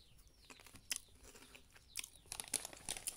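Someone bites and chews Oishi Kriuk Kriuk balado-flavored fish snack. A handful of sharp, dry crunches come close to the mic and cluster more densely toward the end, with no talking.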